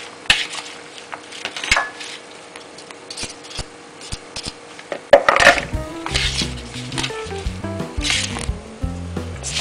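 Peanuts are tossed and coated with wheat flour for kacang telur, making dry rustling and scraping with scattered clicks, then a busier stretch of rubbing and tapping, close and fairly loud, with no talk.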